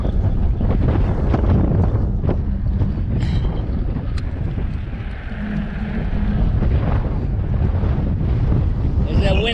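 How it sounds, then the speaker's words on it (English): Steady east wind roars across the microphone on a small boat heading to Lake Washington, a constant loud rush with water slapping the hull and occasional brief clunks. "There's that wind out of the east."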